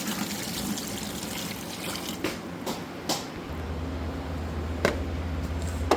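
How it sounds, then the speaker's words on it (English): Water poured into a bucket while mixing rust remover for a John Deere 110 engine clean-up, a steady close trickle and splash with a few sharp knocks and a low hum entering partway through. "1 liter of water in the bucket."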